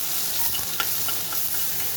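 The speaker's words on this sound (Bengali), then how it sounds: "এবার এর মধ্যে আমি দিয়ে দেবো রসুনটাকে আগে দিয়ে আমি একটু ভেজে নেব।" Garlic sizzling in hot oil tempered with black cumin seeds, a loud, continuous close hiss with faint stirring clicks.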